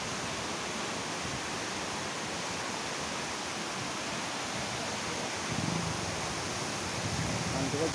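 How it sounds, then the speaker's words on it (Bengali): Water pours out through three dam gates in a dense, steady rushing roar that stays loud and unbroken throughout. "এই 3টি গেট দিয়ে জল বেরিয়ে যাচ্ছে অপর দিকে।"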